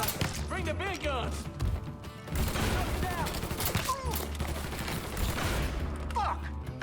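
Gunfire in the Mafia III video game: dense, sustained volleys of shots, crashes and impacts, loud and close, with shouted voices breaking in over the shooting.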